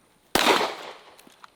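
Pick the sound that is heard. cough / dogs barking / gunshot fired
gunshot fired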